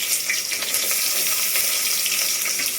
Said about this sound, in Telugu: ఇప్పుడు మనకు ఆయిల్ హీట్ ఎక్కిపోయింది ముందుగా ఆనియన్ వేసేస్తున్నాను ఇందులో